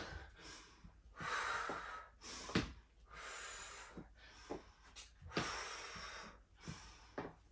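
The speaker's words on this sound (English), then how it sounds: "Make sure you're breathing." Heavy, rhythmic breathing from someone working hard through a low-impact bodyweight strength and endurance workout, with loud repeated exhales and sharp gasping inhales close to the listener, and no talking.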